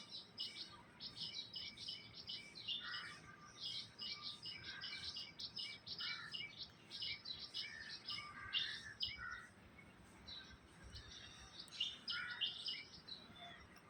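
Dense morning birdsong fills the air, with many small birds chirping and tweeting in quick overlapping bursts, continuous and fairly close, beside a path lined with betel nut trees and a soft outdoor hum beneath.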